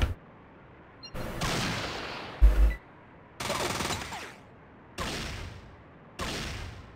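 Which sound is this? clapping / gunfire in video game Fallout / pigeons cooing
gunfire in video game Fallout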